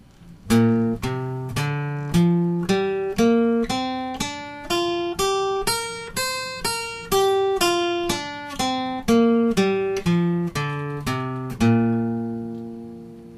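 A single guitar plucks a steady run of notes in a pentatonic scale pattern, climbing up and back down, each note ringing clearly and evenly spaced.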